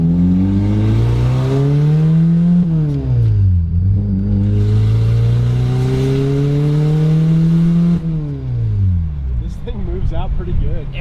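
A Toyota MR2 with a swapped K24 engine accelerates hard on a drive, rising through revs in loud sweeping pulls with gear changes between, close inside the car while someone talks over it.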